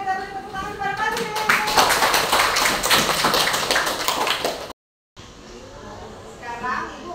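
Classroom applause for a student: a burst of quick, fairly loud clapping from pupils in a mathematics lesson, with a teacher's voice before and after and a short gap of silence near the end.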